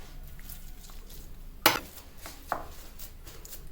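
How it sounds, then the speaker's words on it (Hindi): Boiled, peeled potatoes being mashed in a bowl for aloo tikki, heard as soft scraping and a few sharp utensil knocks against the dish over a quiet background, with no voices. "आलू हमारे बॉयल हो चुके हैं और हमने इसका छिलका भी उतार लिया है। अब हम इसे मैश करेंगे।"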